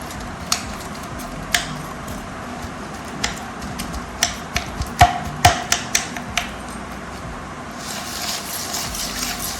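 Pickled chillies being stirred together with split mustard seeds in a bowl, giving scattered clicks and taps from the spoon against the container, a few louder knocks in the middle, over a steady faint background hiss.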